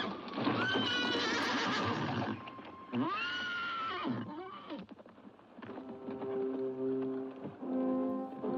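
Horses in a film give several loud, shrill whinnies in succession with a clatter of hooves beneath, close and dramatic, with some talk faintly mixed in.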